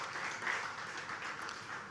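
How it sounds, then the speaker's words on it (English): Steady audience applause fills a school graduation ceremony, dense clapping sustained throughout at moderate level, with no talk over it. "I think that deserves a rounding applause for those who would have worked so hard to put it on."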